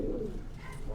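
Male Moti pigeons in a Quetta loft give a brief, soft, low coo, faint against the background and lasting under a second.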